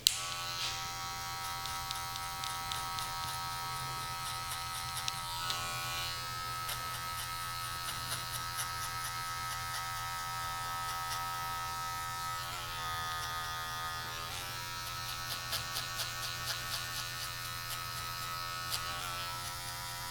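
Electric hair clippers fitted with a number 2 guard buzz steadily at close range during a high bald fade haircut, with a faint uneven rasp as they pass through hair.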